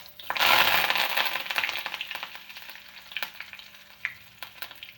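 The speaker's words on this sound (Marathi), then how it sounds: "जिरे टाकले की आपण त्यात स्वच्छ धुवून असा कढीपत्तासुद्धा टाकून घेणार आहे." Curry leaves dropped into hot oil with cumin seeds for a spicy rural-style brinjal curry, giving a loud burst of crackling sizzle that fades into steady spitting and occasional pops, close by and without talk.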